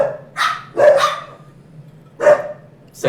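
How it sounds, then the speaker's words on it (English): A big dog barks several times nearby, loud deep woofs arriving in a loose cluster of three and then one more after a pause, with a low background hum. "That's my big dog."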